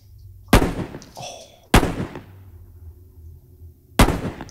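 Gunshots ring out in the horror film The Mist, three sharp loud blasts spaced about a second and two seconds apart, each followed by a short decaying echo over a low rumbling background.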